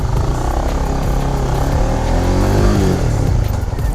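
A Honda CBR 150R motorcycle accelerating in first gear, its engine revving loudly and close with a rising pitch that sweeps up and then settles.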